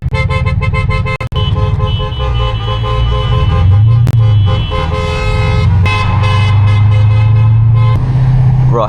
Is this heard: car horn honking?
yes